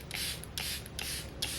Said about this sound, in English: Gonna set my face with the Airbrush Flawless Setting Spray.